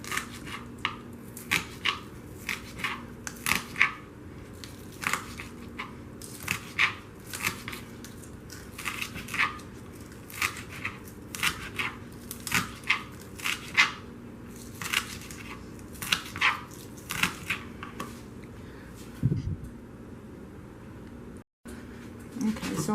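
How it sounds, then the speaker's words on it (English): Knife chopping homegrown green onion into very small pieces on a cutting board, a steady run of crisp, close, evenly spaced chops with brief pauses, alone without talk. "I went and got some green onion out the yard, so I'm going to chop this up"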